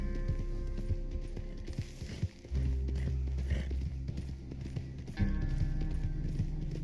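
A horse in Red Dead Online runs up at a clip-clop gallop and slows near the listener, hooves thudding steadily over game music and ambient noise.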